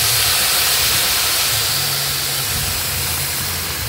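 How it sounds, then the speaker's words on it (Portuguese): Loud, continuous sizzling hiss as water is poured into sautéed rice in a hot pan, steady throughout with no talking. "Quando a gente coloca água assim, ó, não faz, não dá esse chiadinho?"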